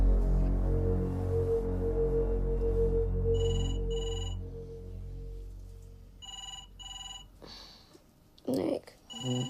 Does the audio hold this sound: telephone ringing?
yes